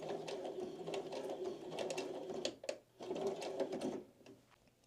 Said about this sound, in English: So we're going to sew a few stitches forward, and then sew a few stitches backward.